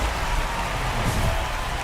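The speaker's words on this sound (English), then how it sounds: "It feels like we might be headed towards a rain delay if the weather doesn't ease up, Chris." Rain pours down during a baseball game in the video game MLB The Show 25 as a steady, even wash of hiss and patter, with no voices over it.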